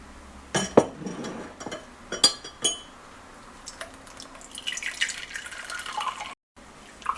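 Blended beetroot juice strained through a strainer into a glass, with a few sharp clinks of utensils followed by soft, steady dripping and trickling liquid, close and fairly quiet, no talking.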